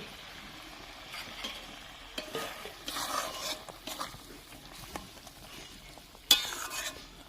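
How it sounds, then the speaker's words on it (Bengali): Prawns fry in hot oil while being stirred. Intermittent scraping strokes and soft bursts of sizzle come and go, ending with one sharp metallic clank near the end. "বন্ধুরা, চিংড়ি মাছটা দিয়ে দিচ্ছি। দেখুন সেই তেল উঠে গেছে।"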